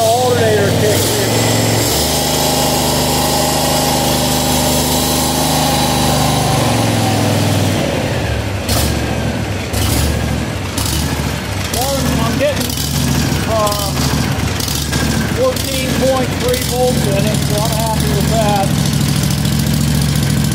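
A Vanguard 18 engine swapped into a Cub Cadet 1872 garden tractor runs steadily with a loud, close mechanical drone, a shift in pitch partway through, while someone talks over it.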